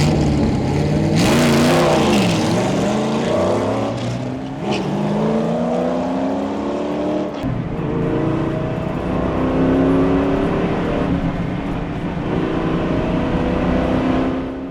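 A cheap supercar's engine revs hard and loud on its first quarter-mile test run, climbing through gears in long rising pulls with a sharp burst near the start and a sustained roar after.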